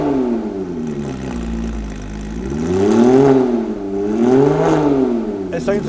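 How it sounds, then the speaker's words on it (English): Modified Porsche 987.2 Cayman S engine revving repeatedly from a steady drone, rising and falling in pitch in two loud swells, heard close up from inside the car. "It sounds like a racing car."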